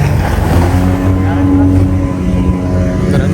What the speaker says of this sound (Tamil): இப்போ தான் 2வது இடத்தை தட்டி செல்கின்ற படகு வருது.